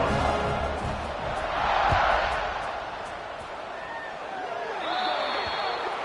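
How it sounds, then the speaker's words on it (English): A home crowd at a football stadium roars before kickoff, a broad, sustained swell of cheering that rises and falls, with a commentator's voice faintly over it. "They're set to kick it off, and this crowd now ready to get behind them."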